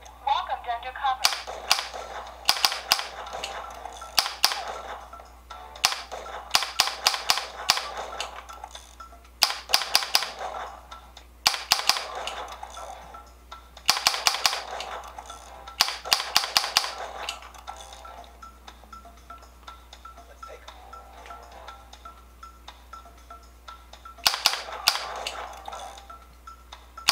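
Electronic gunshots from an arcade light gun shooting game played on a large TV, sharp bursts of rapid shots in clusters, loud and near, with game voices and a low steady hum beneath.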